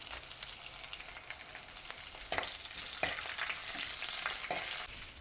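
Garlic, green chillies and curry leaves frying in oil for a Kodava-style curry, a close crackling sizzle that grows louder partway through, broken by a handful of spatula scrapes and taps, with no one speaking.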